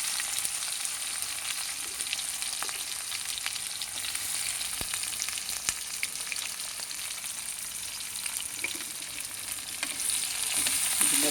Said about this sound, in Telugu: ఇప్పుడు పచ్చిమిరపకాయలు, ఉల్లిపాయలు వేసేస్తున్నాను.